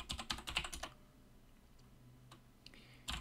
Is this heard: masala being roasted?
no